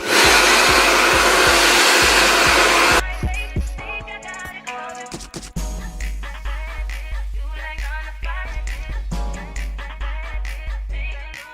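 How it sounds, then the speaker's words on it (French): A hair dryer roars loudly and steadily for a few seconds while flattening a lace front wig, then cuts off, leaving soft rustling and handling noises. "Je prends mon sèche-cheveux et je vais venir aplatir le tout."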